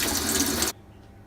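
A shower head fed from a tap sprays water in a loud, dense hiss that cuts off abruptly partway through, leaving a quiet room tone behind it.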